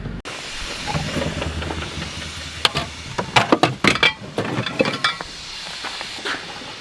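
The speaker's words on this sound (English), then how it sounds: "Back the air compressor up to the header wagon, and then we're going to air up a tire." An industrial air compressor hisses and chuffs while a tire on a header wagon is aired up during wheat harvest, starting as a steady rumble and then breaking into bursts of sharp air hiss, close by.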